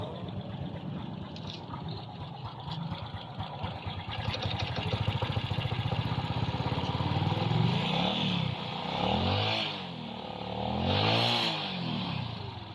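A Honda XRM 125 motorcycle engine with a hard-starting fuel problem idles roughly, then labors and bogs through several uneven throttle blips, sputtering close by with no talking.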